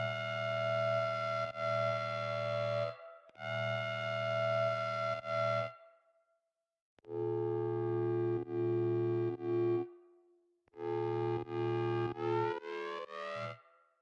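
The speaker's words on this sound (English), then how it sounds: "I think I'm automating the wavetable position. That's kind of why it sounds like it's like going down." A buzzy synth lead with automated wavetable position and soft clip distortion plays sustained notes in separate phrases, its tone shifting and sweeping downward, with a low bass layer beneath and brief pauses between phrases.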